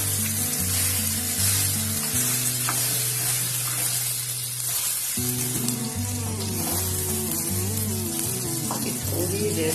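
Eggs for a Pakistani desi frittata fry in a pan with a continuous close hiss and sizzle while a spoon slowly stirs them, a few soft scrapes poking through.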